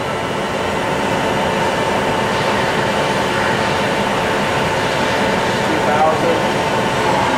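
A 2010 Milltronic HBM 4 CNC table-type horizontal boring mill with a 4.3-inch spindle runs up toward 1000 RPM, giving a loud, steady broadband machine roar and hum that holds constant throughout, with no speech.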